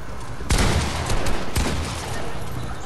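Gunfire in the video game Fortnite: two sharp, loud shots about a second apart, each with a short rumbling tail, over steady game noise.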